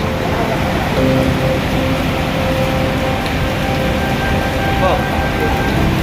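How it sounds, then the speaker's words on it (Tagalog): Heavy rain pours down in the Middle East in a dense, constant roar, with a brief exclamation from someone nearby. "Sobrang lakas ng ulan yan, basa na rin."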